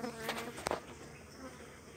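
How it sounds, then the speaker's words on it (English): Bees buzz close by at a hive entrance in a steady hum, with a few louder passes as individual insects zip near. "some of the bees trying to sting me now"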